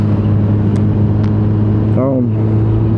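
A Kawasaki-type sport motorcycle ridden on a clear spring morning, its engine a steady loud drone with strong low harmonics throughout, and a brief rising pitch sweep near the end as it revs; wind rush runs underneath.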